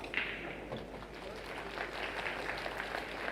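Steady applause from an audience at a 10-ball pool world championship match, a dense patter of clapping holding at an even level throughout, with a faint murmur underneath.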